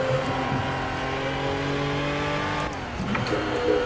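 A race car engine in the Project Cars video game holds a steady, buzzing drone through a corner as the tail slides out in third gear, with a brief dip in pitch partway through.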